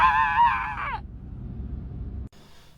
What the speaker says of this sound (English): and this is my scream.